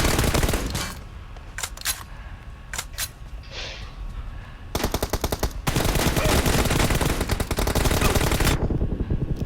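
Rapid bursts of gunfire from PUBG Mobile in team deathmatch mode, loud and close, with dense automatic volleys and stretches of continuous shooting across the whole span.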